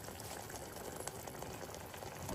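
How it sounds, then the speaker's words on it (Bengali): Fish curry bubbling at a vigorous boil in a pan, a steady close gurgling and popping with no voices. "দেখো প্রচুর ফুট ধরে গেছে রান্নাটা দেখো কতটা ফুট ধরে গেছে"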